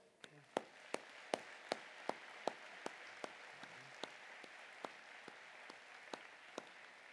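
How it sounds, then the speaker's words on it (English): A conference audience at the 2015 UDOT Annual Conference gives a round of applause, sparse scattered claps ringing out fairly far off in a large hall and slowly thinning. "Will all of you at the conference please join me in a round of applause for these great UDOT employees."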